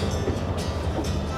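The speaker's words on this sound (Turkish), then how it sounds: "Tren gelir. Hoş gelir." A train passes with a steady, close rumble and faint rhythmic wheel clatter over a short stretch.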